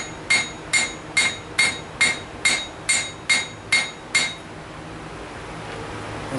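A blacksmith hammers hot steel at an angle on the end of an anvil to start a bevel, with about eleven sharp, ringing metallic strikes landing in a steady rhythm before falling silent.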